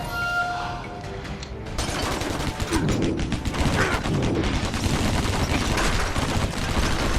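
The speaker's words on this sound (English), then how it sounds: "Guy's got a heavy ass machine gun though." Heavy machine gun fire in the Stranglehold shooter game: after a quieter opening with mechanical clicks, a dense, sustained burst of rapid automatic shots erupts and keeps hammering loudly to the end.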